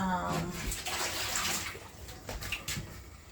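Excess pea water is scooped out of a pot of rice and peas cooking with coconut, giving splashy, sloshing liquid sounds up close. A few brief clinks and splashes follow, with a voice faintly present.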